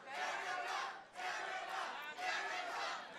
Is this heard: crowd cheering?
yes